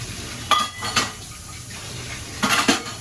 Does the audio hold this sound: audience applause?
no